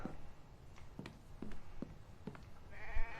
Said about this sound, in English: Yes, I hear you, Mr. Sheep.